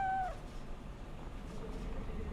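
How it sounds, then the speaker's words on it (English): A cat in Cyberpunk 2077 gives one short, clear meow right at the start, followed by quiet ambient background. "you can pet the cat"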